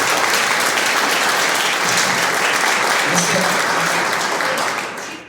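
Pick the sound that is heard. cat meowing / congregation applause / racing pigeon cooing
congregation applause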